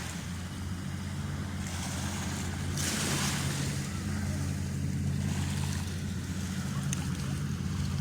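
A hovercraft on its hourly run passes offshore near sunset, its steady engine roar low and constant with a rising rush of air as it goes by, heard from the shore.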